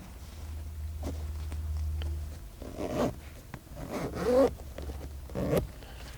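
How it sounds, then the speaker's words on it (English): A seat cover zipper is pulled open in several short rasping bursts, close by, with some handling and rustling of fabric between pulls. "unzip both of these zippers"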